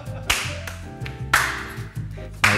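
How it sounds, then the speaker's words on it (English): Sharp hand claps mark the start of a film take inside a car, several crisp single snaps spaced about a second apart over a low background hum. "clap before you start, man."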